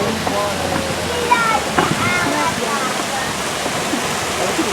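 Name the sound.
waterfalls at Disney Animal Kingdom safari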